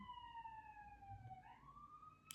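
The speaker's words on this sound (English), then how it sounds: "Do you hear that siren?" A siren wails outside at a distance, its tone sliding steadily down and then rising again, moderately faint against a low background rumble.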